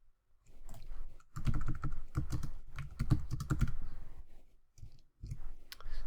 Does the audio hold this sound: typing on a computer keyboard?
yes